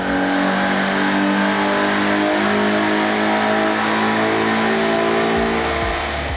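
A manual 2014 Ford Mustang V6 revs hard on a dyno, its engine note climbing steadily and loud, then dropping off near the end.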